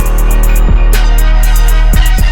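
A loud electronic drum beat with punchy kicks and snare hits over a sustained tonal backing, steady and upfront, with no voices.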